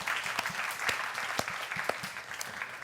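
A church congregation applauds to encourage a member who has just published a book, giving steady, dense clapping from many hands that fills the sanctuary and stays even throughout.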